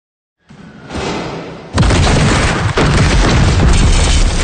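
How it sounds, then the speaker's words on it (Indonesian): A film scene of a bomb detonated inside a construction tunnel: a muffled rumble rises, then a heavy boom bursts in and a loud, continuous roar of debris and rushing noise follows, with a second jolt shortly after. "Setelah bom diledakkan"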